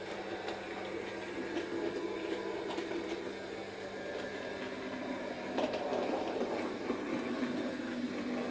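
A very small model train locomotive creeping slowly over insulfrog points, giving a quiet, steady mechanical whirr with faint, irregular clicks of wheels on track throughout, no voices.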